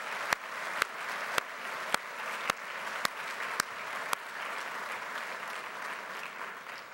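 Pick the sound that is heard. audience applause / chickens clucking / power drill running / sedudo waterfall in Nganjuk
audience applause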